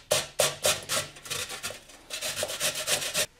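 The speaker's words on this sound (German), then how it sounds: "den könnt ihr jetzt erstmal mit so einer feinen Reibe reiben" Hokkaido pumpkin rubbed against a fine kitchen grater, a close, steady series of rasping strokes in quick rhythm, each stroke a short scratchy burst, with no talking.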